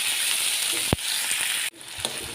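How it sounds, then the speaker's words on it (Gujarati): Green onion and green garlic sizzle steadily as they sauté in hot oil in a pan, a close continuous frying hiss broken by a couple of brief clinks and stirs. "લીલી ડુંગળી ને લીલું લસણ છે એને આપણે સાતળી લઈશું"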